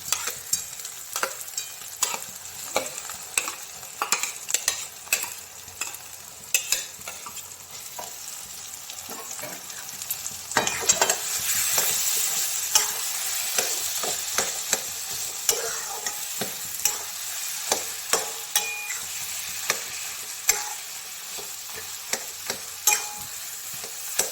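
Mashed eggplant is fried and stirred into spiced egg for begun bhorta: repeated close scraping and tapping strokes of a spatula over a soft, continuous sizzle that grows fuller halfway through.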